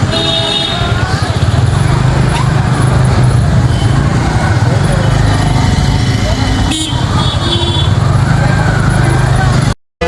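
Busy road traffic at night, a dense, loud rumble of passing cars, buses and motorcycles with occasional horn toots, while people talk nearby throughout.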